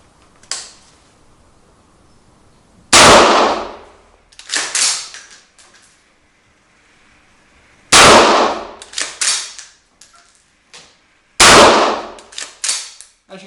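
A Schmeisser Ultramatch AR15 straight-pull .223 rifle fires three loud, sharp shots spaced a few seconds apart, each followed by a cluster of metallic clacks from the action being cycled by hand.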